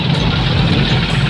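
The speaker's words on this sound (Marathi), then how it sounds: "सगळ्या ऊसाच्याच गाड्या आहेत।" Heavy trucks loaded with sugarcane rumble along a road near a sugar factory during cane harvest, a steady low engine drone that stays close and loud throughout.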